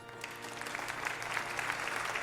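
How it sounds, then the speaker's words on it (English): Wedding guests clapping together as a procession comes down the aisle, a steady, moderate applause with no voices standing out. "And then the people literally start clapping."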